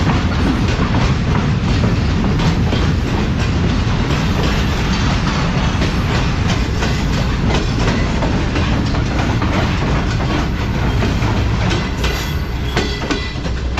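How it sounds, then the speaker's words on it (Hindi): A sleeper train rolls past on the main railway line, a loud continuous rumble with steady clickety-clack of wheels over rail joints, close by and unbroken throughout, with no voices. "स्लीपर ट्रेन जा रही है, सारे स्लीपर्स भरे हुए हैं कोचेज़ में।"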